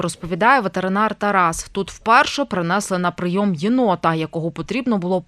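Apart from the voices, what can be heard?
No everyday noise stands out behind the speech.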